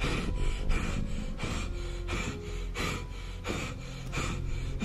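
A creature in a horror video game breathes heavily, with a loud, close, steady rhythm of raspy inhales and exhales repeating roughly every half second.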